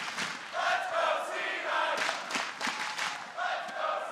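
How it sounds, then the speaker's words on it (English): An esports arena crowd at the 2016 League of Legends World Championship quarterfinals cheers and roars for Cloud9, a loud, sustained wash of many voices with swelling bursts of shouting. "Crowd once again behind Cloud9 as they step onto the rift."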